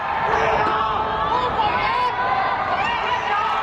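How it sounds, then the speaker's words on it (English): Residents of locked-down Chengdu call out and cheer from apartment windows, a continuous distant crowd of overlapping shouts, whoops and voices echoing steadily between buildings. "Residents in locked-down Chengdu have been calling out from their windows."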